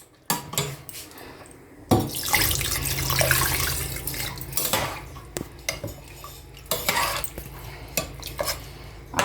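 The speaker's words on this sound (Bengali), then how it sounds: "এবার আমি এতে জল দিয়ে দিচ্ছি" Water pours from a vessel into a pressure cooker holding mutton curry, a steady close splashing gush after a few metallic clinks of the pot, followed by more scattered clattering and clanks.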